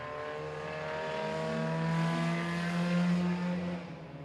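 A midget race car holds a steady, buzzing engine drone at high revs through a qualifying lap, and its pitch climbs slightly before easing off near the end. It is loud and close, with no voices over it.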